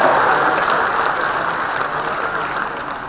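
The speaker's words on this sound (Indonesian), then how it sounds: "Bung Dasko, kita berikan tepuk tangan." A dense, steady wash of applause from an audience at a political gathering greeting Sufmi Dasco, loud and continuous without any speech over it.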